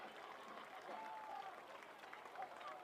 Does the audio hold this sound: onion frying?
no